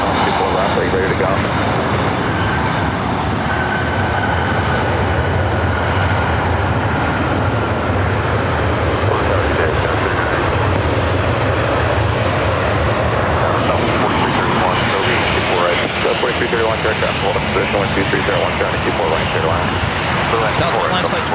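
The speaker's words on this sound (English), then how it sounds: "Delta Airlines Flight 2459 heading to Portland on the Northwest A320" A Delta Airlines Airbus A320 jet roars loudly at LAX, a dense, continuous engine rumble with broad hiss that swells slightly over twenty seconds, with air traffic control radio talk mixed in underneath.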